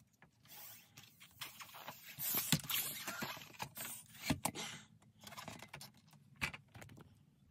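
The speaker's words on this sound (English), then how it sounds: "I'm going to use my foot pump, my floor pump" A foot-operated floor pump inflates a long modelling balloon for a balloon snake, giving a run of rhythmic mechanical squeaks and hisses of air with bursts of varying loudness, close by and without talk.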